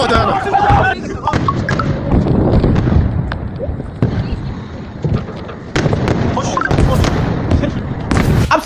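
Missile strike explosions go off as a run of sharp, loud booms and crackling bursts, mixed with excited shouting voices in the background.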